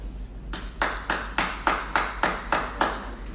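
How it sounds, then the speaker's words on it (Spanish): A preacher claps his hands in a steady run of about ten sharp, evenly spaced claps, close and fairly loud, with no talking over them. "Yo no sé por qué aplaudí."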